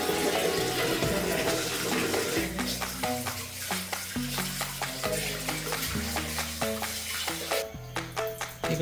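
Chicken kebab pieces sizzle in hot oil with a crackling hiss, overlaid by a run of irregular metallic scrapes and clinks from a utensil moving them in the pan, close and moderately loud.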